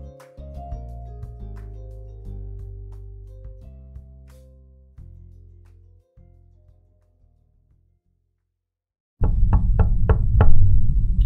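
Sharp knocking on a door, a quick series of about five loud raps near the end, following a long stretch of fading low instrumental music and a brief silence.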